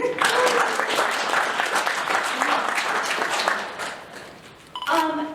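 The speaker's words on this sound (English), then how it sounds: "We'll have a round of applause for our judges again." An audience at a poetry slam applauds the judges with dense, steady clapping that gradually thins and fades, then a brief electronic tone sounds at the end.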